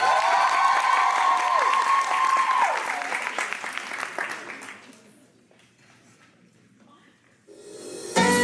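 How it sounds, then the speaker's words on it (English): A fashion show audience applauds loudly and steadily, with scattered cheers, before the clapping fades to a quieter lull, then a burst of sound returns at the very end. "So a round of applause from them."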